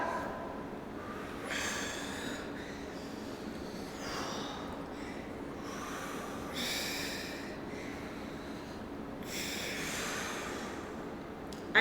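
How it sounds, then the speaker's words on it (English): Heavy, rhythmic breaths pushed out in bursts every couple of seconds during an upper-body workout, close by, over a steady background hum, with no talking. "you guys can probably hear us breathing out"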